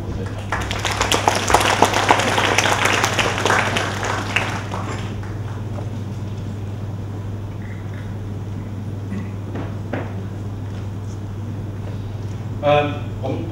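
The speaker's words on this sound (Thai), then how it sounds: "จะขอปรบมือให้กับคุณเอริกบูธด้วยครับ" Audience applause at an art conference on Montien Boonma, a dense burst of clapping that fades within a few seconds, with a steady low hum beneath and talk afterward.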